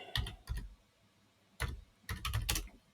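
Bursts of typing on a computer keyboard, a few quick keystroke clusters separated by pauses, close and fairly quiet with no speech.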